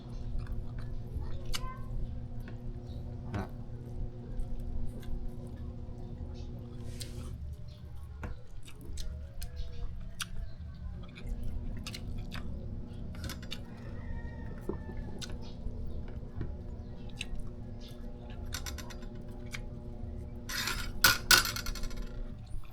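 Fried dried fish (daing) is chewed with crunchy bites and soft, wet chewing, close to the microphone and repeated irregularly over a steady background hum, with a few sharp clicks and clinks.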